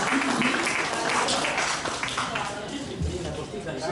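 Dense audience applause at a furniture fair award ceremony, steady clapping from many hands that gradually eases off.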